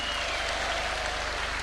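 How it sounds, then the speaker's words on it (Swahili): Crowd applause at a State House teachers' forum hosted by the president, a steady wash of clapping filling the whole moment with no talk. "Makofi kwake."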